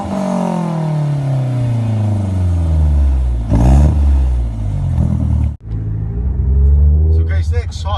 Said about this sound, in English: So guys, the exhaust is nice. It's a Remus exhaust.